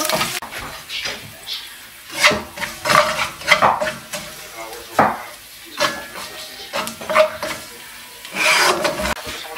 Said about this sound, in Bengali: ভেজিটেবলস গুলোকে কিছুক্ষণ এভাবে করে নেড়ে নিতে হবে